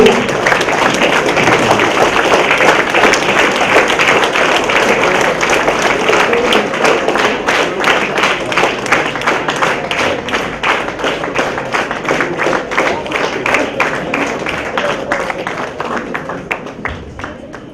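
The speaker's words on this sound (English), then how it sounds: "I think she deserves a standing applause" Loud, sustained standing applause from an awards-ceremony audience at a youth leadership awards event, dense crowd clapping with rapid overlapping claps throughout, some voices mixed in, tapering slightly at the end.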